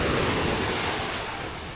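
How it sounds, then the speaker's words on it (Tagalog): Rough, muddy sea at a river mouth churns in a dense, roaring wash of surf with no distinct breaks, loud and close throughout. "Galit na galit ang dagat."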